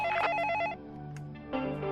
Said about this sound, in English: The phone should ring after you request the code from the computer.